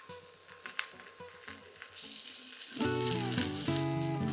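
Ginger garlic paste frying with chopped onions in a pan for a mushroom pepper fry. A soft, close sizzle with light crackles carries throughout and stays alone without talk, while a tonal music-like layer swells in partway through.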